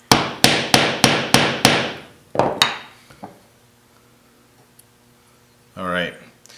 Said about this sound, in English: what you'll want to be verifying as you're slowly hammering this roll pin in